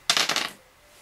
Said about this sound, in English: So let's reroll 2 of these sidekick dice.